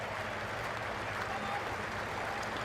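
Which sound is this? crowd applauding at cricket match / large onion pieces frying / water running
crowd applauding at cricket match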